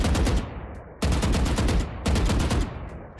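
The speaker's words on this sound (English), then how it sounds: "Shooting in bursts, that's also a very important part" Gunfire in Valorant fired in three rapid bursts, each a loud, dense string of close shots lasting about a second, with brief gaps between.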